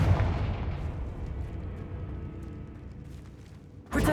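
A Confringo fire spell explodes in the video game Hogwarts Legacy with a deep boom that rumbles and fades, then a second sharp blast hits near the end.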